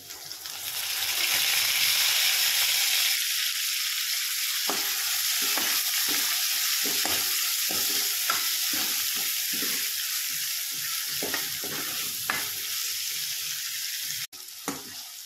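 Tomatoes and curry leaves fry in a pan for a drumstick vegetable dish, a loud steady sizzle broken by repeated scraping stirs, with a sharp clatter near the end.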